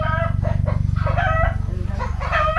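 Chickens on a farm cluck and crow close by, a rooster's call rising over busy overlapping fowl chatter against a low steady background hum.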